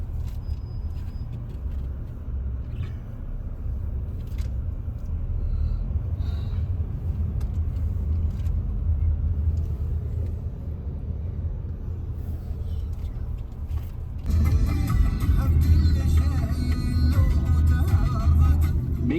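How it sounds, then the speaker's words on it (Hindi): Heavy road traffic in Sharjah rumbles as a continuous low drone, heard from inside a vehicle creeping through congestion, growing louder and brighter toward the end. "लेकिन ट्रैफिक तो बहुत ज़्यादा है।"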